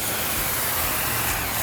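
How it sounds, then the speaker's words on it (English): Water spraying from a hose nozzle during maintenance at an aquatic center, a steady loud broadband hiss throughout with no break. "when I have to get a little more pressure behind it, I twist the nozzle a little close."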